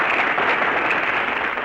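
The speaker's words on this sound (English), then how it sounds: "All right, folks, you made your applause." Studio audience applause at a radio comedy show, a dense, steady roar of many hands clapping, loud and close, with no break.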